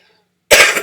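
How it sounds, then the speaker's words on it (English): A single sharp cough erupts after a moment of near silence, close and loud. "sorry about the coughing"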